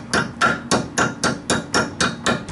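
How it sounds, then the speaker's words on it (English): Steady series of about nine sharp hammer strikes, roughly three per second, tapping a bolt out of the steering knuckle while installing spindle lifts on a Ford Ranger or Mazda pickup; close, loud metallic blows with no talk. "Tap that bolt completely out. Just use the hammer and gently"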